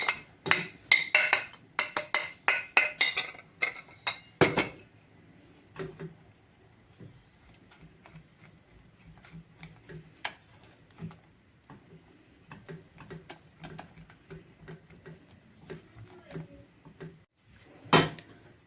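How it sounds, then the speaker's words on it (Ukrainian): A whisk beats berry puree with starch and sugar in a bowl, giving quick clattering clicks for the first few seconds, then sparse taps and scrapes with a sharp knock near the end. No one speaks. "Щоб рівномірно розмішати крохмаль, я використовую вінчик."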